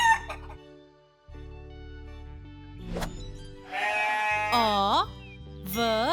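A chicken clucks and crows among other farm-animal calls, including bleating, with rising and falling harmonic cries in short bursts over a steady background hum.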